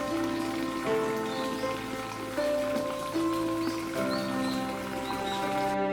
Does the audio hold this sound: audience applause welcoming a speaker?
no